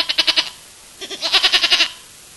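A person imitates a goat, voicing two bursts of quavering, pulsed bleats, a short run of about four, then a longer run of about eight after a pause, loud and close with no other sound.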